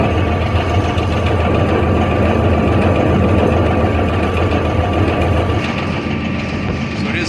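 A tractor engine runs steadily, driving a brush hog mower through its PTO. The heavy, close drone holds at a constant low idle throughout and eases slightly near the end.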